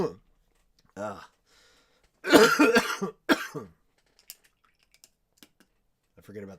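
One harsh cough bursts out during a casual hobby-painting hangout stream, with scattered keyboard typing and clicks around it and a voice briefly speaking before and after.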